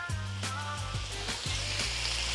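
Sesame seed oil hitting hot chicken fried rice in a pan, a loud steady sizzle with repeated scraping and tossing strokes from a small spatula at a fairly regular pace.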